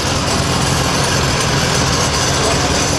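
A 1938 John Deere B tractor engine runs loud and close, a dense steady rumble with no pauses or voices over it.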